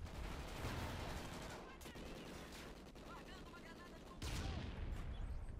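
Automatic MSBS rifle fire from Call of Duty: Ghosts, dense rattling bursts that fill the clip, fading briefly in the middle before a loud sustained burst returns near the end.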